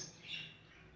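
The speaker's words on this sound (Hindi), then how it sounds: "पा छे कबूतर फिर तोते भी दाना छाना पाने" Pigeons and parrots calling, a single faint squawking call with a short chirp, heard briefly at low level against quiet background.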